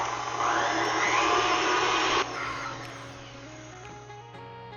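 An electric mixer beats chocolate chip banana bread batter with a loud, steady whir for about two seconds, then drops to a quieter hum with a faint tonal whine.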